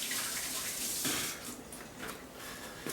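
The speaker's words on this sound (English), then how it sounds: "Wash my hands." Tap water runs into a kitchen sink while hands are washed during cooking, a close, steady splashing stream with brief surges.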